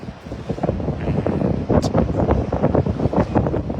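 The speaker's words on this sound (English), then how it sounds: "It's a little bit windy, so I'm sorry if it's going to create a bit of noise there" Steady buffeting wind noise rumbles across the microphone throughout, outdoors at the RNLI Clacton lifeboat station, with gusty low-frequency bursts and a faint hiss on top.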